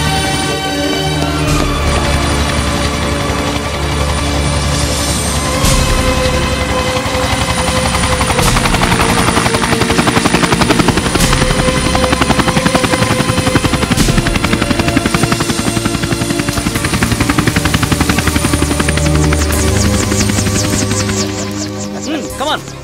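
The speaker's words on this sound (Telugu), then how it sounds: "ఇంటి బయటికి వెళ్ళి చూడు, ఆల్రెడీ హెలికాప్టర్ ల్యాండ్ అవుతూ ఉంటుంది" A helicopter lands nearby in a loud, steady rotor roar with a dense chopping drone that fills the scene for over twenty seconds, with shouting voices underneath.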